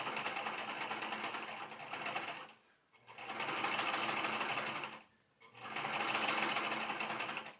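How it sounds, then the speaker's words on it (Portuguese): Domestic sewing machine stitching a straight seam along the edge of fabric for a mug rug, with the presser foot lowered; three steady runs of motor whir separated by short pauses, close and clear. "Baixa o pezinho, retrocesso no início e no final e faz uma costura bem na pontinha."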